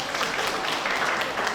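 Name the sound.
audience applause for the organizing committee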